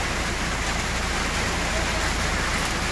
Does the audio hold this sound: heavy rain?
yes